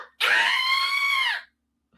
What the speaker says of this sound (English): Yeah, screaming loud